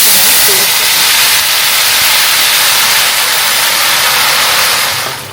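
A mixer grinder grinds masala for a home-style Telugu fish curry, producing a loud, dense, steady roar that runs unbroken for about five seconds before cutting off.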